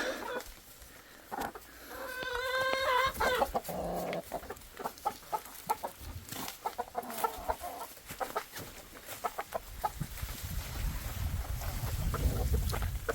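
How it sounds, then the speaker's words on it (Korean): Several chickens cluck and squawk nearby in scattered bursts, with rustling and a low background hum. "닭들이 잘 있습니다."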